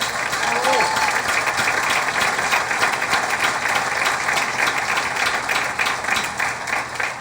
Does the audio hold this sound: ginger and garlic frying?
no